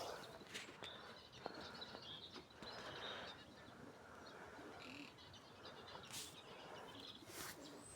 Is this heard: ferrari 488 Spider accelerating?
no